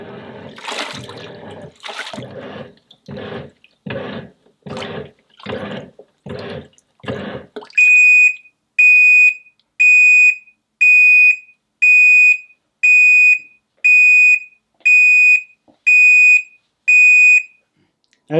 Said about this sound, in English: it's beeped to tell me it's finished